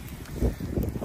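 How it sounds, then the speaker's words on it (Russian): Brief gusty wind in a snowstorm buffeting the microphone, a low rumbling roar with rising and falling strength. "такой не слабенький ветер начался"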